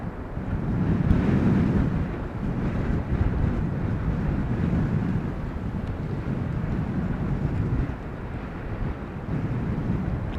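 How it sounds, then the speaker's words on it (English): Strong wind buffets the microphone outdoors at Amsterdam Schiphol Airport, a loud continuous roar with gusty surges rising and falling, alone without speech. "oh, wind is blowing me off course."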